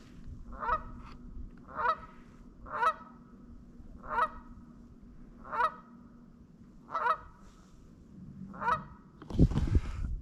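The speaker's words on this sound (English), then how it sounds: "hear the geese" Geese honking repeatedly in a steady rhythm, about one call per second, moderately distant, over a low background rumble at Loch Lomond; a brief noisy thump at the end.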